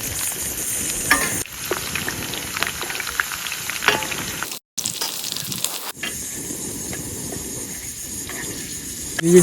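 Potatoes, capsicum and carrot fry in a pan at a night campsite in the forest: a continuous loud sizzle with stirring scrapes and one brief cut to silence partway through.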